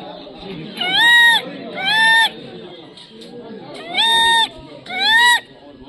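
A voice imitates a crested serpent eagle, giving four ringing whistled cries in two pairs, loud and close, over a low background murmur of people.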